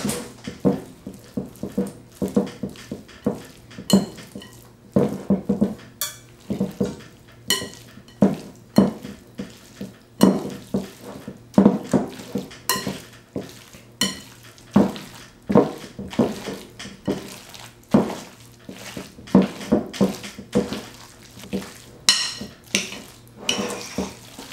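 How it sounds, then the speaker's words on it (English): A utensil stirring a mixture in a pot or bowl in a holiday home kitchen, with repeated scraping and knocking strokes at an irregular, steady pace, close and moderately loud, continuing for well over twenty seconds. "Stir it up."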